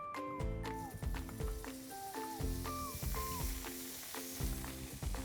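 Golden Crown compound butter sizzles in a fairly hot pan that has just cooked mushrooms, a continuous hiss running beneath louder melodic music throughout.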